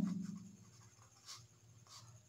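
Pen writing on paper while working a class 10 polynomials maths exercise, with a quiet scratchy stroke near the start and a few faint strokes after, close and soft with no talking.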